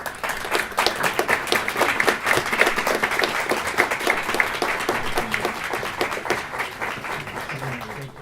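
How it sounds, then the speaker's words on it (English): An audience applauds a senator with sustained, dense clapping from a crowd in a hall, loud and steady before gradually thinning out toward the end. "How about another round of applause for that senator, huh?"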